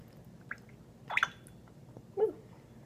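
Oil falling drop by drop from an eyedropper into a small lava lamp bottle charm: a few faint, sparse drips and soft squishy liquid taps, close and quiet.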